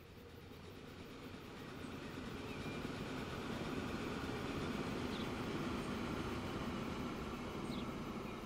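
A train runs steadily in the transport-management video game Transport Fever, giving a continuous low rumble with faint rail clatter that swells slightly and then holds even throughout, with no talk over it.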